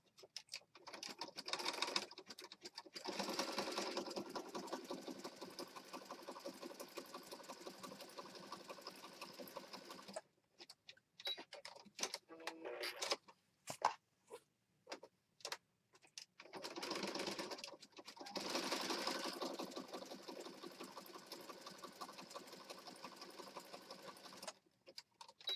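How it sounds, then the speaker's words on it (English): A sewing machine stitches down the edge of a handmade Christmas mini journal, running in long steady whirring bursts broken by short stop-start stitches in the middle, close and fairly quiet. "So I'm going to sew down this edge here."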